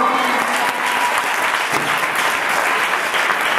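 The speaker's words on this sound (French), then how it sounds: "Est-ce qu'il y a quelqu'un pour l'acclamer ce soir?" A church congregation claps and cheers in steady, enthusiastic applause that fills the room throughout, with voices mingling in the crowd noise.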